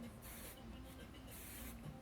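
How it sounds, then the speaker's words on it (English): Silkening mist is sprayed onto hair in two quick bursts, soft close hisses from a pump bottle over a steady background hum. "That is actually silkening mist in order to get the hair a little with just a little bit more shine."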